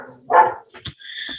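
A dog barks once loudly nearby, followed by shorter, fainter yelps and whines over a couple of seconds, with little else around.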